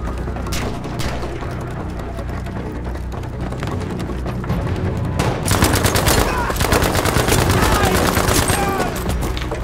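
Sustained MP40 submachine gun fire in Battlefield V, dense rapid bursts over a busy battlefield with other gunfire and explosions, growing louder and more continuous in the second half.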